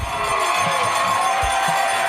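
A crowd in the stands at a high school football game cheers and shouts in a steady, dense roar, with a few thumps underneath.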